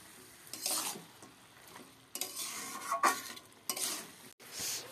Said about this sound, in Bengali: ছাঁটটাকে একটু ভালো করে কষিয়ে নিচ্ছি এর মধ্যে